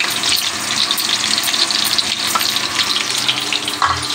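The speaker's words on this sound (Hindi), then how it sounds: "इसको मसाला को भून कर फिर इसमें ग्रेवी में डाल दिया जाएगा।" Spice masala frying in a pan, a bright, steady crackling sizzle heard close up, with faint stirring under it and no talk.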